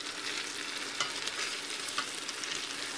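Meatballs sear in olive oil at the bottom of a power pressure cooker, a quiet, even sizzle with faint clicks of them being moved around and no talking.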